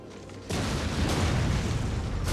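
Ballistas fire explosive rounds in Total War: Rome 2, a sudden loud boom that opens into a sustained rumbling roar of battle noise.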